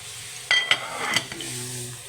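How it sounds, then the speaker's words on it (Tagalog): Rice boiling in a pot on a home stove, giving a soft steady bubbling hiss broken by a few sharp metallic clinks of the pot or lid near the start, with no talking. "kumukulo na rin yung rice natin"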